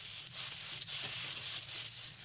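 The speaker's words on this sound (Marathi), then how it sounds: "थोडे थोडे तीळ टाकून भाजून घ्यावे." Sesame seeds roast in a pan. A soft, continuous rustling and scraping comes from the stirring, quiet and close, with faint uneven pulses.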